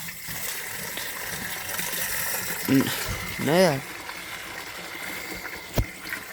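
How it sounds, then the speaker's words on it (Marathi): Water from a tank runs into a metal pot, a soft continuous flowing splash close by, while someone speaks briefly and a few short clanks sound. "इथं आता या हंड्यात घ्यायचं आहे आपल्याला पाणी."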